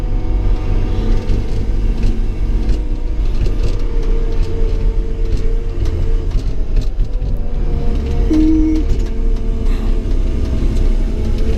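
A six-wheel-drive vehicle with an automatic transmission drives along, and its engine rumbles low and steady under constant road and body noise. No one speaks.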